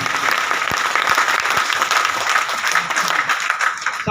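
Dense, steady audience applause at a motivational leaders' meet, loud and sustained throughout with a few sharper claps standing out near the front.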